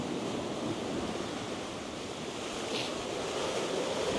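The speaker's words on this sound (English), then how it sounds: "That could be kicking up the waves a bit." Waves wash against a boat off the Isle of Skye on Scotland's west coast. A soft, continuous surge of water is mixed with wind buffeting the microphone, with no voices.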